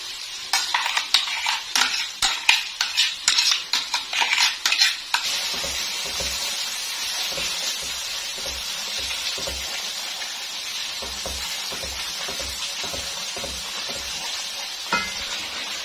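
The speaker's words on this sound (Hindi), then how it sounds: "ये हमारा पेस्ट अच्छे से मिक्स हो रहा है।" Cashew-onion paste is stirred into cooked tomatoes in a pan for chicken changezi, first with quick loud spoon clatters and scrapes against the metal, then a steady sizzle with soft, rhythmic stirring strokes and no talking.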